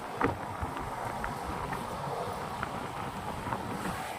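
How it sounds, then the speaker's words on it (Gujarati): Steady wind blowing across the microphone, a continuous low rumble with a few faint clicks, moderately quiet and without voices. "વાયરો ચાલુ છે મસ્ત"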